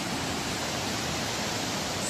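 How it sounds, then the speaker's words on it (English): Steady broadband roar of a wild mountain waterfall about nine meters high, dropping into a rock bowl at 1650 meters in Pirin National Park, continuous and close with no voices. "the waterfall is like 9 meters, and it is crazy wild"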